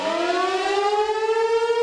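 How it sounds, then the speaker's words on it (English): A civil defense siren wails steadily, its tone slowly rising and sustained loud and close with no voices. "When you hear the sirens go off down here"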